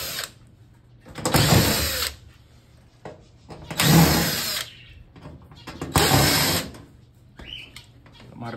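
A power drill or screwdriver takes out the screws of the top cover on an LG front-load washing machine. There are three separate whirring runs, each about a second long, with short mechanical clicks between them.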